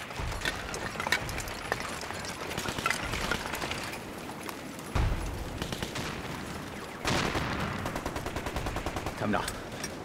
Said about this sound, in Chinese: 枪声，战斗没有结束